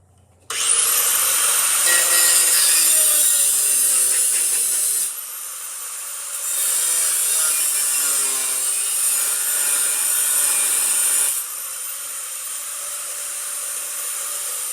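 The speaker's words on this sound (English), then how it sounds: "I welded it up and ground it pretty much flat." An angle grinder grinds a welded repair flat on a Cub Cadet LT-1050 riding mower, a loud continuous high-pitched whine that dips briefly and resumes in long sustained passes, close to the microphone.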